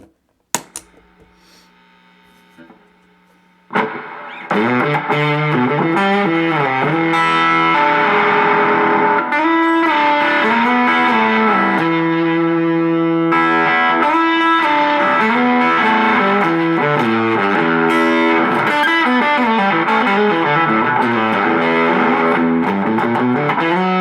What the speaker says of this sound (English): The Fuzzbender cleans up a little bit, and it kind of gets a little bit of that kind of gated synthy sound.